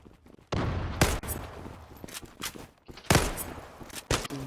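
FN FAL Pro rifle fire in the online shooter Zula, two loud close bursts of shots separated by quieter movement and scraping, each burst trailing off briefly.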